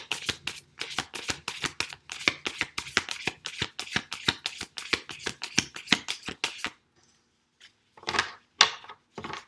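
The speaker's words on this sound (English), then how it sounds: "I don't know why I'm shuffling it like this" Tarot cards are shuffled in a rapid run of crisp riffling flicks, a short pause, then a few more shuffles close up.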